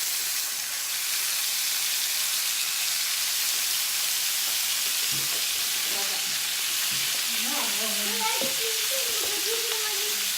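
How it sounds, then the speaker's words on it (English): Ham slices fry in a pan for ham sandwiches, giving a steady, dense sizzle and hiss throughout, with a few tonal clinks and stirring sounds near the end. "we're ready to fry some ham for a fried ham sandwich"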